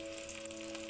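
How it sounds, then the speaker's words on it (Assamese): Chopped onions sizzle in hot refined oil in a pan for fried rice, a steady close hiss and crackle with no pauses. "এয়া তেলখিনি গৰম হৈ আহিলত এতিয়া পিঁয়াজখিনি দি দিছোঁ"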